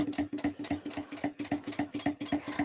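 A sewing machine stitching a bag seam, a fast, even run of mechanical needle clatter, close and steady, with a brief hitch partway through, no talking.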